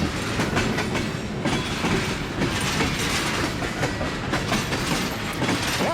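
An Iowa Northern freight train rolls along old CGW trackage, with steady clickety-clack of wheels over rail joints and a continuous rumble of railcars passing close by, broken by brief squeals.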